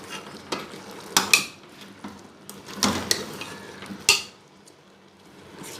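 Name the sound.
mixing tamarind into black chana chaat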